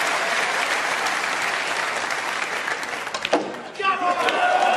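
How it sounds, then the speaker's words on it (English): Sustained applause from a large snooker crowd at the UK Championship final, a dense steady wash of clapping that breaks briefly near the end before loud cheers and whistles rise again. "And listen to the crowd here."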